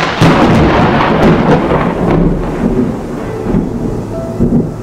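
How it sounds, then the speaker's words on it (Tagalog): Loud rolling thunder rumbles continuously over steady heavy rain, with no voices. "ang banayad na simoy ay naging sigaw ng kulog"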